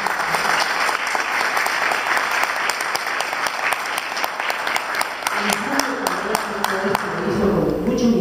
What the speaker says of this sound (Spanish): un aplauso fuertísimo